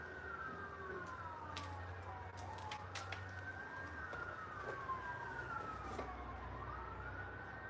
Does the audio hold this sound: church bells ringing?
no